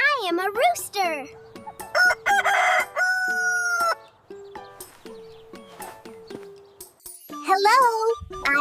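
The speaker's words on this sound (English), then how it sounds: "Hi, I am a rooster." A rooster crows in bright, rising calls, with clucking fowl and a light jingle in the mix, while a child-like voice speaks between the cries.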